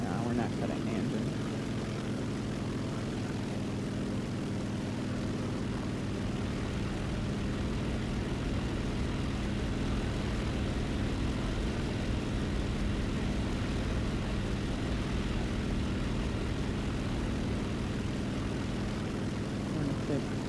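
Propeller airplane engine in the video game War Thunder, a steady continuous drone held at constant loudness throughout, with a low hum underneath and occasional voices in the background.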